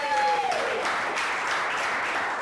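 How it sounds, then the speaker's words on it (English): Audience applause fills a comedy show at a theatre, a broad steady wash of clapping that stays loud throughout after a short vocal tone fades at the start. "Give Blaze a round of applause"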